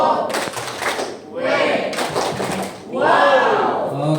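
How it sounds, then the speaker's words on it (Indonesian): A school group at SMPN 1 Loakulu claps on a countdown cue, with bursts of clapping and thumping mixed with shouting voices that come in waves, rising and falling in three loud surges. "Ya 3, 2, 1 tepuk wow."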